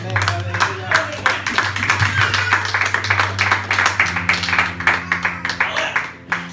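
A church congregation claps in steady rhythm, with a held musical tone underneath and voices mixed in, moderately loud and continuous.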